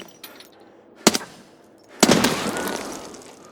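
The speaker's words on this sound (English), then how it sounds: "seeing how far that explosion went" A gas canister explodes in Escape from Tarkov, with a sharp crack about a second in, then a louder, closer blast that rolls into a long, decaying rumble with debris.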